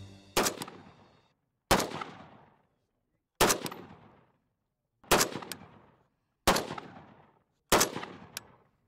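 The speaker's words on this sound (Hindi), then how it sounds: "सामने सब सिंगल शॉट, फिगर 11 टारगेट," Six single gunshots are fired one at a time at Figure 11 targets on a shooting range. Each is a loud, sharp crack with a decaying tail, spaced about one and a half seconds apart, with no talking between them.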